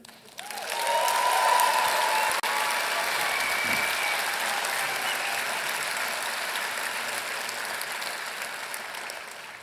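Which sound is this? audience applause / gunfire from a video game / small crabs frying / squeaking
audience applause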